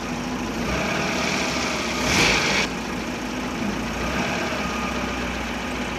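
A Toyota 5K engine idles steadily after its distributor timing has been adjusted, a loud, even, continuous engine hum with a brief louder hiss partway through.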